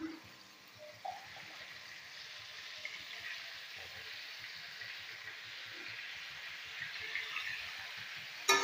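Potatoes frying in a pan give off a soft, steady sizzling hiss that stays at an even, low level throughout, with faint scrapes and no voices.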